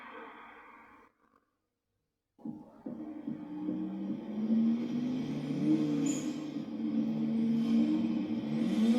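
A car engine in a film swells in and roars steadily closer after a short gap of silence, a sustained rising rumble with no speech over it.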